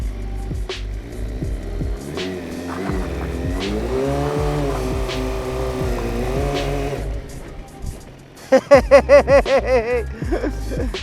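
Motorcycle doing a rolling burnout, its engine holding steady loud revs with a rising tone, then sharp pulsing rev bursts near the end; no one talks.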